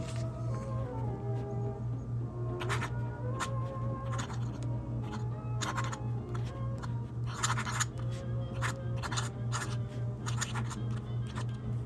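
A dip pen's metal nib scratching across paper in quick bursts of short, crisp strokes, close and fairly quiet over a steady low background hum.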